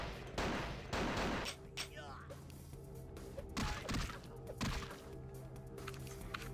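Gunfire in the PC game Vampire: The Masquerade - Bloodlines, with several sharp shots and impacts in bursts alongside game ambience, a player talking over parts of it.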